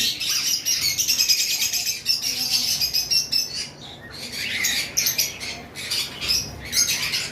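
Caged lovebirds and conures at a bird seller's shop chirp and squawk constantly, a dense, bright chatter of many birds close by with shrill overlapping calls and no pauses.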